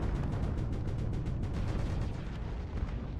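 A Gauss rifle hit in a video game: a dense, heavy blast with a long rumbling, crackling tail, loud and close.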